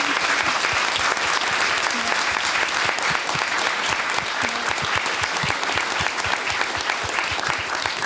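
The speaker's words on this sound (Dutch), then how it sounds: "Ik wil voor nu gewoon een heel groot applaus vragen" Loud, sustained applause and clapping from a live audience at a Dutch comedy show, dense and steady throughout with a faint crowd murmur underneath.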